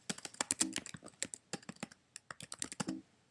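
Fingers type on a computer keyboard while entering data, a quick irregular run of close, crisp key clicks with short pauses, heard alone without talk.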